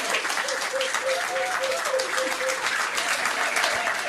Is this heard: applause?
yes